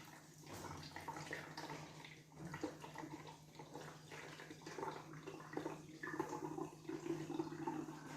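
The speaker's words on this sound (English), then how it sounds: "pour the paint water in the bottle and with help of funnel" Paint water poured through a funnel into a bottle for a simple air pressure fountain model, a soft continuous trickle and gurgle of liquid, faint and close under a low steady hum.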